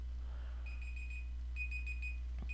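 A timer alarm beeps in repeated short bursts, with two clear groups of high electronic tones over a steady low hum and no talk.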